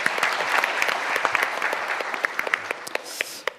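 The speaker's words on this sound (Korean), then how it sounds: "큰 박수 부탁합니다" Conference audience at a Seoul Digital Bio City event in a hall, applauding a Seoul city official with steady dense clapping, a few sharper individual claps standing out near the end.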